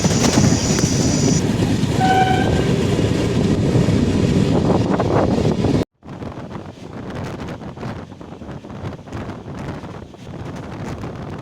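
Passenger train slowly pulling out of Charlapalli railway station near Secunderabad, a steady close rumble with wind buffeting the microphone, then a sudden drop to quieter rolling wheel noise with faint rhythmic clatter.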